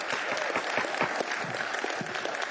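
Steady, dense applause from an audience at a public assembly meeting, a continuous wash of clapping hands with no voices over it.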